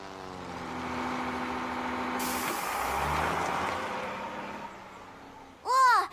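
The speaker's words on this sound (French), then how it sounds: "il n'y a rien qui fait autant de bruit que ce camion" A loud cartoon truck roars steadily for several seconds, the noise swelling in the middle, before a short voiced exclamation cuts in near the end.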